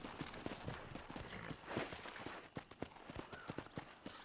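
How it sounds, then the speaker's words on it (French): Steady clip-clop of horse hooves walking at an even pace in the video game Red Dead Redemption, close and distinct, with a brief rustle midway. "Brave cheval."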